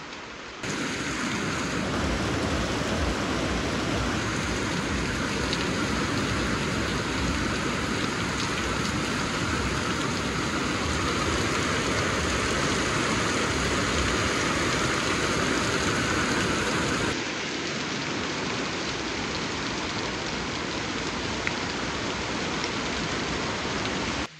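Steady rain falls on a Sunday morning, a loud, dense, continuous wash that keeps going without a break and drops slightly in level partway through.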